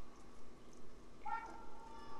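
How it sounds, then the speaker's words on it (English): A single short meow from a player-controlled cat in a cat video game, fairly faint over a low background hum. "apparently if I press circle, I can meow"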